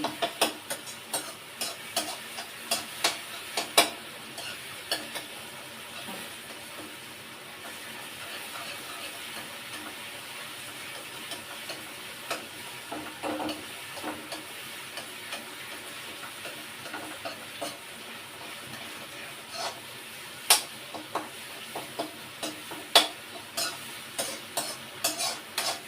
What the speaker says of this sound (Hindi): टमाटर, मिर्ची, प्याज को अच्छे से मैश होने के बाद इसमें डाल देंगे मैक्रोनी।